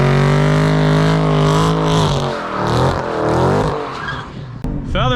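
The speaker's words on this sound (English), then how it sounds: "that's how you do a fucking burnout" A high-powered car doing a burnout, engine held at steady high revs with tires spinning and squealing loudly and continuously up close, the pitch dipping and wavering as the throttle is feathered.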